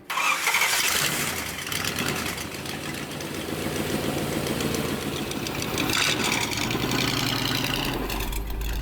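A lifted V8 Jeep Wrangler YJ engine cranks and catches, then settles into a loud, rough, steady idle that stays close and continuous throughout, with no talking.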